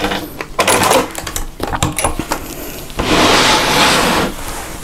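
Sewing machine stitching a fabric wallet, with short irregular bursts of rapid mechanical clatter, then one steadier, louder run of stitching, all close by without talk.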